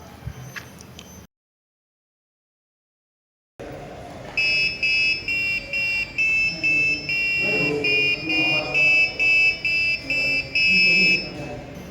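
A buzzer driven by an RFID and servo lab circuit plays a programmed melody as a series of short, evenly spaced electronic tones, loud and close after a brief silence.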